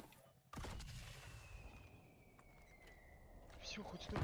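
Gunfire from the Call of Duty Warzone video game: a sharp burst opens the stretch, followed by a rapid crackle of shots and a lingering whine, moderately loud.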